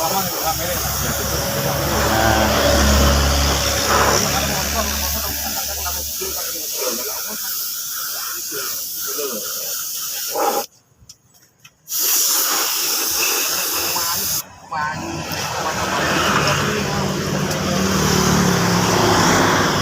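A spray gun hisses continuously while painting a motorcycle rotor black, with a steady airy spray that cuts out briefly twice, as someone talks over it.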